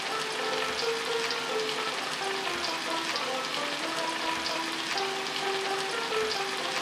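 Niramish labra, a Bengali mixed-vegetable dish, cooks in a pan with a steady, gentle sizzle and bubbling hiss, and faint tonal sounds drift in the background.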